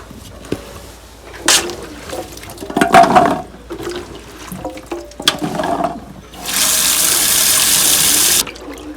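Water runs and splashes in a sink in short bursts while green beans are washed, then a steady loud gush from the tap for a couple of seconds, close up.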